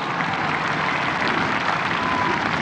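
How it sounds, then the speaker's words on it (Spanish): Sustained, dense applause from a large audience at a government annual report address, a steady unbroken wash of many hands clapping at once with no talking over it. "Un aplauso para las cadenas comerciales"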